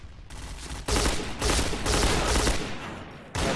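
P90 submachine gun fire in Point Blank on the Desert Camp deathmatch map: loud, close bursts of rapid automatic shots in three or four sustained runs, separated by brief pauses.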